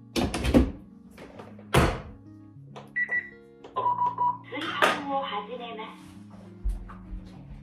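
A rice cooker holding tomato halves and a splash of white wine is shut with a couple of soft thunks, then a few short electronic beeps sound as quick-cook is set, near and clear in a quiet kitchen.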